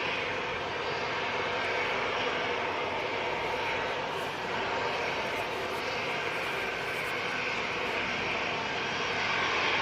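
Steady, loud jet engine roar from an AirTanker aircraft at an airport, a continuous broadband rumble holding through the whole stretch with no voices.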